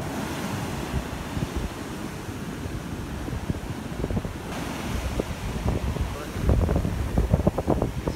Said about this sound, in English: I'm just gonna film from here because there's too much wind.